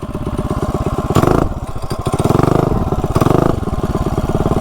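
A modified mini bike engine runs loud and close, its rapid single-cylinder putter steady with two brief revs that rise and fall.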